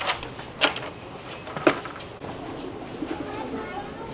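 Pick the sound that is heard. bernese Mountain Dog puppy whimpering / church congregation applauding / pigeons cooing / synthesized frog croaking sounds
pigeons cooing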